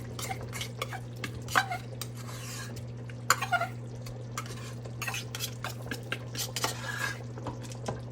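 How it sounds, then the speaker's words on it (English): Tomato paste from a 6-ounce can being stirred into a pot of game day chili made with leftover hamburger meat; close spoon scrapes and clinks against the pot repeat irregularly over a steady low hum. "I'm gonna put the tomato paste in."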